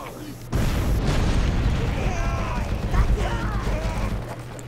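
A dynamite blast in the fantasy game Overlord 2: a sudden heavy boom followed by a sustained rumbling roar, with a person talking faintly over it.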